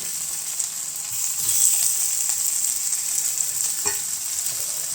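Plantain slices fry in hot oil on a dosa griddle, making a bright, steady close sizzle that swells slightly midway, with a faint scrape or tap near the end.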